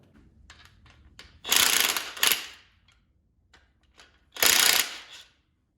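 A torque wrench tightens bolts on a Toyota 22RE engine during a rebuild, giving a few quick ratcheting clicks and then three short, sharp bursts of clicking, close and alone in a quiet workshop.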